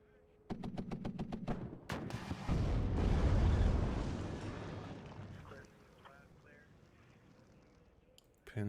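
Battle gunfire from a war strategy video game, with a rapid burst of automatic shots, then a heavy rumbling blast that swells and fades into a lingering din and scattered distant shots.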